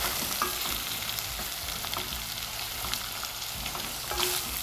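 Fish fillet pieces, a quarter kilo, frying in a pan for crispy fish balls: a steady, moderate sizzle with occasional stirring scrapes and clinks, nearby and without speech.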